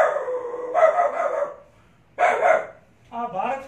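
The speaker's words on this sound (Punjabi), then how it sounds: "ਆਹ ਬਾਹਰ ਕੁੱਤਾ ਭੌਂਕਦਾ," A dog barks outside at night in three separated bursts, fairly close and loud, with quiet pauses between them.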